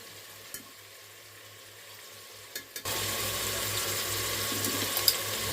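Quiet kitchen hum with a few clicks, then a sudden steady frying sizzle of meat and onions starts and continues, with faint scraping stirs on top.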